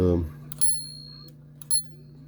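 A vintage Smith Corona typewriter's small bell dings twice, bright and close, about a second apart, after a brief murmur of a voice at the start.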